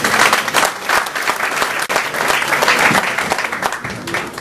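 Loud, sustained applause from an audience at a Greek sports awards ceremony in a hotel, dense clapping filling the whole stretch with slight swells.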